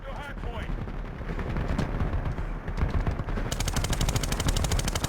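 Rapid machine-gun fire in the 2010 Medal of Honor shooter, steady clattering bursts that build into a fast, dense rattle toward the end, with a voice talking underneath.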